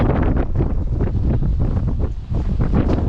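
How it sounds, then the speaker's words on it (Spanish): Strong mountain wind at Laguna Sucia near El Chaltén buffets the microphone, producing loud, continuous rumbling gusts with no talk. "Muchísimo viento de espalda."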